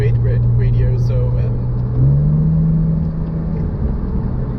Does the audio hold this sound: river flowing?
no